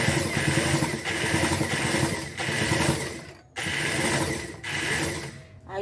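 A sewing machine stitches thin fabric scraps for a patchwork rug, running in steady rapid mechanical bursts with short pauses between runs.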